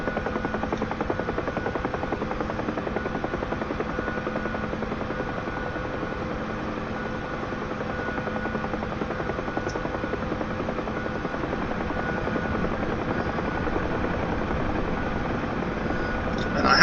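A Bell UH-1 Huey helicopter in flight, its steady rotor thump and engine drone heard from inside the cabin, continuous and loud throughout with no talk.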